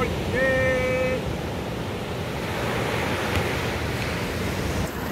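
Broad, steady rush of river water during a crossing of the Salvador River in Colombia, a continuous wash with wind-like noise throughout and a brief whistling tone near the start.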